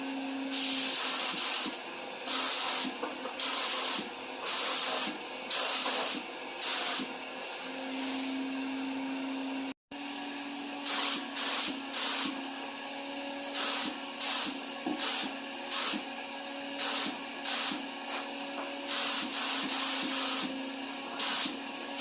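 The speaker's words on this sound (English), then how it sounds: "this is a polyurethane paint that I use for spraying" A spray gun lays down a coat of polyurethane paint in a series of loud, close hissing bursts, each lasting about a second with short pauses between them.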